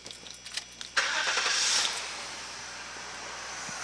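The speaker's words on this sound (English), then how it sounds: "the car can be started" A car engine turns over after some faint clicks and key sounds, catching with a sudden rush and then settling into a steady idle nearby.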